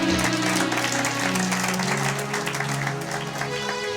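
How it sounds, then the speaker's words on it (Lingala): A church congregation applauds steadily throughout, dense continuous clapping close by, with a faint tonal hum beneath. "Acclamez pour la gloire d'Éternel notre Dieu"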